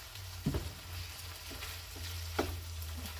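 Ground-meat picadillo seasoned with cumin, salt, pepper and garlic powder sizzles softly in a pan, a steady low fry broken by a few spoon-stirring scrapes and clicks.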